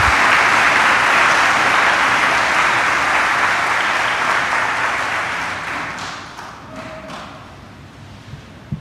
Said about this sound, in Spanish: Un aplauso más para Gerardo por su compañía,